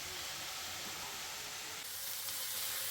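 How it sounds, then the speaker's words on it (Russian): Mushrooms fry in a pan with a steady, dense sizzling hiss that runs unbroken throughout, close and even, with no voices. "продолжаем жарить."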